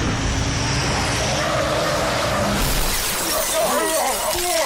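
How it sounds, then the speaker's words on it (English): Glass shatters and metal crashes as a car smashes into enemy Brutes in the video game Halo ODST, a loud, continuous impact with roadway noise and raised voices underneath. "A car just came out of nowhere! Smashed all the brutes!"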